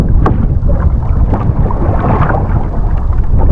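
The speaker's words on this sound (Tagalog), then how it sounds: "Malakas po, malakas ang amihan, kaya magka-check po muna tayo dito sa tabi." Strong northeast monsoon wind at sea batters a small fishing boat with loud, continuous low roaring and buffeting, splashes and thumps scattered through it.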